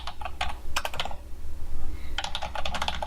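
Keys on a computer keyboard are pressed while tabbing between web form fields. Close, crisp clicks arrive in short irregular bursts with brief pauses between them.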